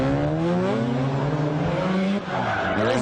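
Ken Block's rally car driven hard on a gymkhana course, engine droning steadily at high revs with shifting pitch and a brief dip, close and loud throughout, no voices.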